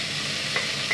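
Chicken frying in a little oil in a pan, giving a steady close hiss with a couple of faint pops over one second.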